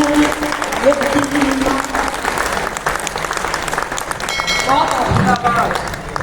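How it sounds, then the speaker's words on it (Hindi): An audience at a Hindi poetry recital breaks into loud, sustained applause, dense clapping that fills the room steadily, with crowd voices mixed in. "यकीन मानो तुम्हारी तालियां हिम्मत बढ़ाती हैं।"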